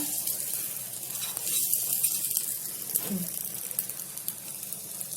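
A karandi egg omelette fries in a pan with a steady, bright sizzle throughout, fairly close and even in level. A soft lower tone briefly rises near the middle.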